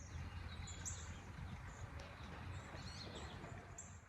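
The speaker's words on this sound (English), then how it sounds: "listen to the birds" Faint bird chirps and tweets come from a distance over a quiet, steady outdoor background in Vermont in December.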